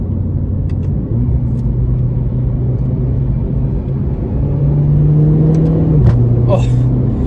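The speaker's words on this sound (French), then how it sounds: "J'espère vraiment que tu entends les retours de flamme, mais c'est une dinguerie." A Renault Clio 4 RS engine drones loudly from inside the car, climbing in pitch as it revs harder, then easing back, with a few sharp popping backfires near the end.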